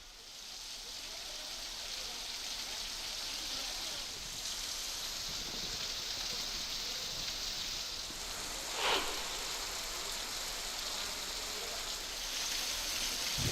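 Heavy monsoon rain falls during flooding in Maharashtra, a continuous soft hiss of downpour heard from a distance and fairly faint, steady throughout.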